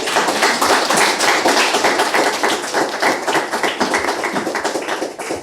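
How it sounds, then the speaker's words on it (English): Applause for panel speakers at an HR event, a mid-sized audience clapping with individual claps distinct in a lively rhythm, strong at first and tapering off slightly toward the end. "Just last round of applause for our lovely speakers."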